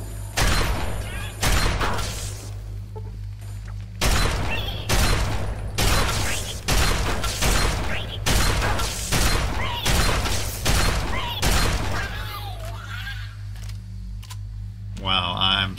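Repeated gunshots ring out in Fallout 3, a long series of loud, sharp blasts at irregular intervals with a steady low hum beneath, and a voice talks in places between shots.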